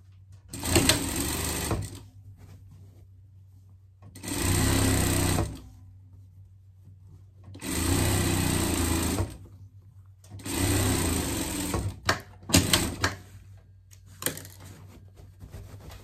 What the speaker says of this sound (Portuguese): Aqui a gente vai passar uma costura para fechar a nossa almofada.